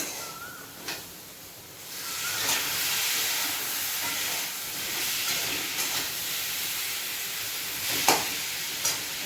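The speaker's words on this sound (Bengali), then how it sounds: "চালটা কষিয়ে দিচ্ছি এখানে ঘি দিয়েছি" Rice frying in ghee in a pot for khichuri, giving a steady, moderately loud hiss and sizzle with occasional soft stirring scrapes, no voices.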